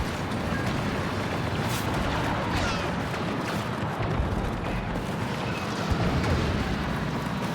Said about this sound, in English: Try to get creative with the ATTE's heavy cannon.